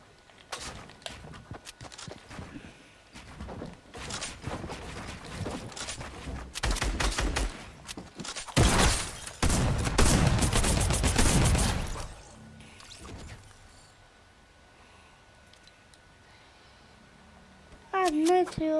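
Rapid video game gunfire in dense bursts and volleys, building to a loud peak then fading to quieter ambience, with a voice briefly heard near the end.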